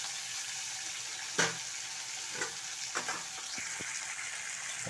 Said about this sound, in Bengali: আলুতে আমি নুন মাখিয়ে রেখেছি, এটাকে একটু সাঁতলে ভেজে নিচ্ছি।